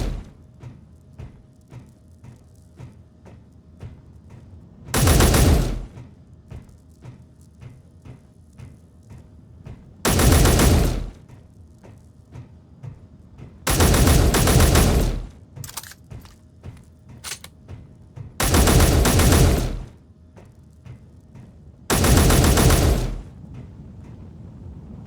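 Turret gunfire in the Space Engineers game comes in five loud sustained bursts, each roughly a second long and spaced a few seconds apart, with quieter background between them and no talking.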